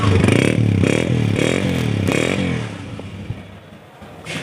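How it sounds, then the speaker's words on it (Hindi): A Honda 125 motorcycle engine revs loudly up close in a few rising and falling bursts, then settles toward a quieter idle with light clatter. "अच्छे साउंड में बाइक आपके सामने होंडा 125 मॉडल"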